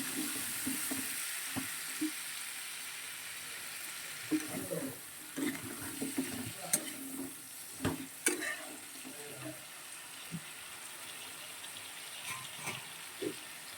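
Shrimp cook in a pan with a soft, continuous sizzle, broken by irregular stirring scrapes and clinks, all fairly faint and close.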